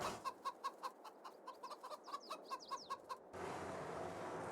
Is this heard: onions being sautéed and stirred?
no